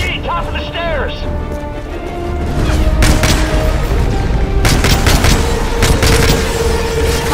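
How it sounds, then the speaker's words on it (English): Gunfire in the video game Call of Duty Modern Warfare 3, with sustained rattling bursts and booming crashes over a dense rumbling battle bed, loud and continuous, with game voices shouting under the noise. "Frost, French, lay down cover fire."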